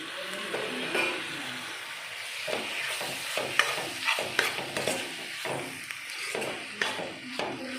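Tomatoes fry in a pan for a chicken curry, sizzling under repeated stirring and scraping strokes that come in uneven bursts, close by with no talking.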